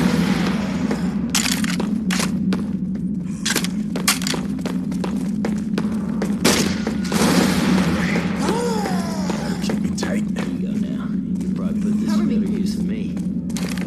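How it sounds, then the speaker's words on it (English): A grenade launcher fires in the video game Silent Hill. Several booming thumps are scattered through the clip over a steady game drone, with people talking throughout. "Got a grenade launcher."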